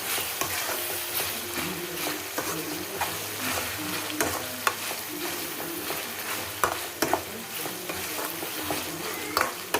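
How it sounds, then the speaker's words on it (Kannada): Ingredients sizzle continuously as they fry in a pan for tindora (ivy gourd) vangibath, with tomato among them, while a utensil stirs with frequent light scrapes and clinks throughout, close and fairly loud, with no speech. "ಅದನ್ನು ಒಂದು ಸ್ವಲ್ಪ ಫ್ರೈ ಮಾಡ್ತೀವಾಗ ನೀಟಾಗಿ ಫ್ರೈ ಮಾಡ್ಕೋಬೇಕು"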